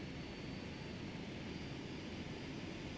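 A steady, even roar of Boeing 757 jet engines in Flight Simulator X, a constant broadband hum that stays at the same level throughout with no speech.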